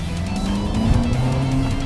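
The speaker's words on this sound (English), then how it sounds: "It's definitely revving a lot higher." A Ferrari V8 engine drones loudly and steadily, its pitch climbing slightly as it revs, heard close up from inside the car.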